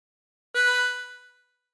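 One drawn harmonica note, inhaled through hole seven in the Bella Ciao melody, rings out after a short silence. The steady tone tapers away within about a second, with nothing else around it.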